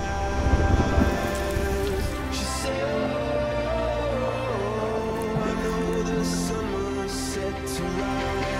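Heavy rain pours steadily under stormy skies, a dense hiss of drops with a louder splashing burst near the start, layered beneath a sustained musical backdrop.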